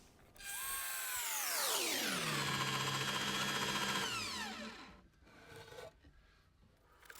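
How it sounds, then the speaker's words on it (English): A drill press whines up loudly, its pitch sweeping down as the bit bores a 12 mm hole into a wooden guitar body, then winds down into quieter scraping. "I use my drill press or pillar drill to drill a 12 mm diameter hole"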